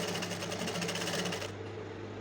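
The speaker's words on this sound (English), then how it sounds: "You need to adjust it like this and just sew down." A sewing machine runs steadily, stitching down a seam on a homemade kaftan with a fast, even mechanical whir close by, then eases slightly as it slows near the end.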